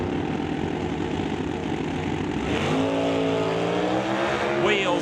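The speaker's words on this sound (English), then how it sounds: "Wheels up for Stobie all the way past the 60-foot." A drag racing car launches down the strip at an NHRA Summit ET Series race, its engine note climbing in rising harmonic sweeps after a steady loud rumble, close and dominant with no talk over it.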